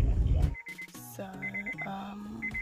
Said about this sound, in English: I'm not sure what that beeping is. I feel like it's the car.